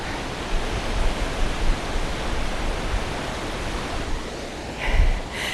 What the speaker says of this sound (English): Now you can hear the waterfall